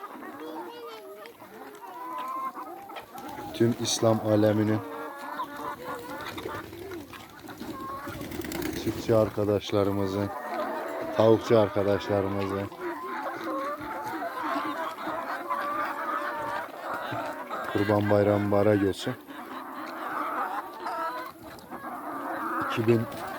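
Free-range chickens on a farm cluck and call in repeated bursts over more than twenty seconds, while someone talks at length over the flock.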